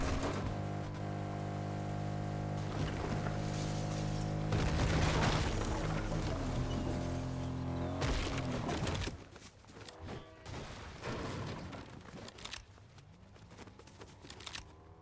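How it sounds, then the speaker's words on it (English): Shotgun blasts in Fortnite Zero Build, a series of loud booming shots with broadband bursts in the first half, followed by quieter scattered impacts and movement sounds. "Shotgun shots going down."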